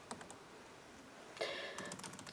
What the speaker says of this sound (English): Typing at an awkward angle.